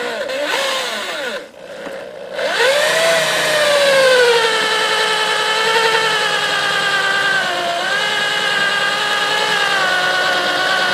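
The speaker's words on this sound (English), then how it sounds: "we're going to drill that thing out of there." A power drill bores out a golf club shaft during a persimmon club restoration, giving a loud, steady motor whine that rises in pitch after a short start and holds for about nine seconds with no talking.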